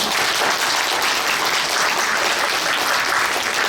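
A crowd at a New Year's gathering of a political citizens' group breaks into loud, sustained applause, a thick, uniform roar of clapping hands lasting throughout.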